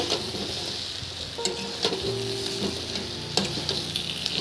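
Potatoes frying in oil for egg curry crackle and sizzle close up, with clattering spatula scrapes and stirring knocks against the pan.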